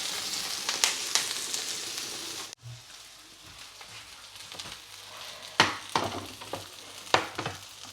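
Fish sizzling in a hot pan for a Western-style grilled fish dinner, a steady close crackle broken by occasional sharp clanks and stirring knocks.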